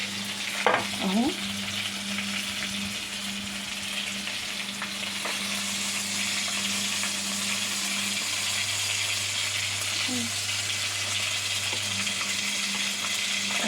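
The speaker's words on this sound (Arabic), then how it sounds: "وانا على بال ما السمك يتقلي" Mackerel and tilapia fry steadily in a pan, a continuous close sizzle and crackle with a low steady hum beneath and a faint clink near the start.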